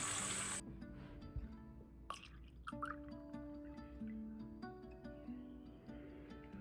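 Water leaking from a Gaggia Classic espresso machine during a citric acid cleaning, faint irregular drips and trickles heard close up, spaced unevenly over a quiet background with no speech.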